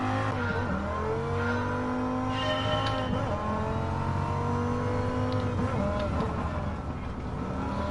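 A small rally car in Gran Turismo 7 drones steadily at high revs, with the engine pitch sweeping up and down as it fights through turns. The sound is continuous and loud, with no pauses.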